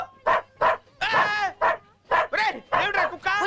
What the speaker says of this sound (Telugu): వెళ్ళి కుక్క నాపు